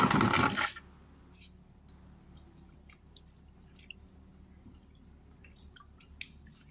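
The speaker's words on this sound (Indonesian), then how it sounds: "Kita siram dulu." Water poured onto soil in a small plant pot: a brief loud splashing gush at the start, then quiet dripping and faint trickles.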